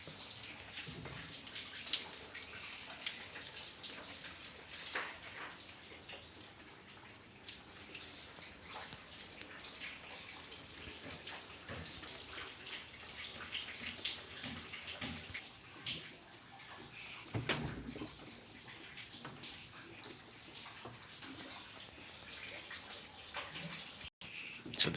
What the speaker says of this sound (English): So using siphoning, we're going to remove all the water.